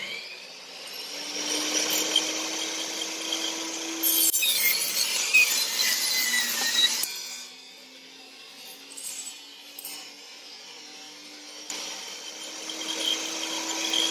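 A saw cuts through a wood board for a landing pad and step build, running steadily in two long bursts separated by a quieter pause, loud and close with no talking.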